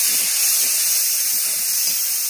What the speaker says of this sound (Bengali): সামান্য একটু জল দিয়ে দিলাম মশলাটা কষানোর জন্য